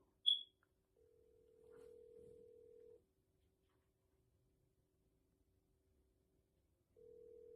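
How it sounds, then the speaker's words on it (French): A telephone call being placed: a short high beep, then a steady ringback tone lasting about two seconds, a long silence, and the tone starting again, quiet and alone. "Je vais lancer un coup de fil."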